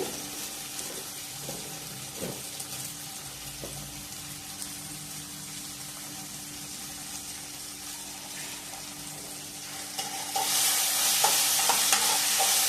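Onions and tomatoes fry in a pan with a low, steady sizzle and occasional stirring scrapes, then a louder rush of hissing joins in toward the end.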